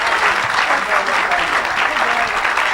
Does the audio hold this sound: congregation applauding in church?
yes